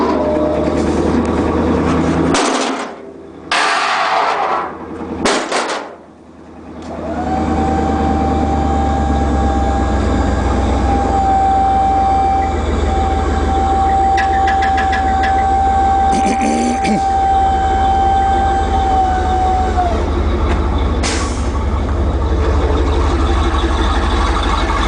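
Power liftgate motor on a gas Isuzu NPR 16-foot box truck with a motor problem, a loud steady mechanical whir with a sustained whine, briefly cutting out early on, then running continuously up close.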